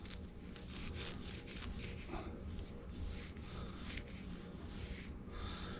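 Scotch-Brite pad scuffing the O-ring bore edge of a Cessna detent valve for Oliver and White tractors, a soft, steady back-and-forth rubbing rasp, close but quiet, with no talk.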